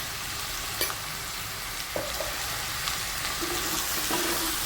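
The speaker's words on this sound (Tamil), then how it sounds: "மட்டும் நல்லா கிளறி விட்டுக்குருவோம்." Chicken frying with turmeric in a pan for Madurai-style uppu kari, stirred with a few scraping clinks of the spoon over a continuous close sizzle, no talking.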